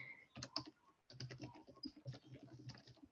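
Quiet tapping on a computer keyboard, a quick burst of keystrokes, a short pause, then a longer run of rapid typing close by, with no talk.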